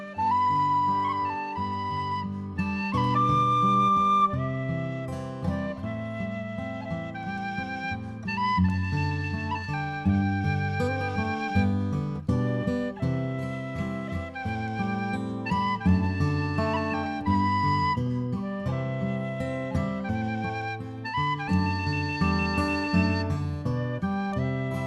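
A tin whistle plays a theme from Local Hero, a clear, sweet, slow lilting melody over a steady harmonic backing, with sustained notes and gentle ornaments and no talk.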